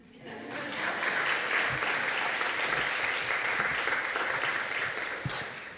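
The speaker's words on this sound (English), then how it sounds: "And if you want to clap, I can wait for a moment." Sustained applause from an audience at a special lecture on African studies, a steady wash of many hands clapping from across a large hall, moderately distant and even.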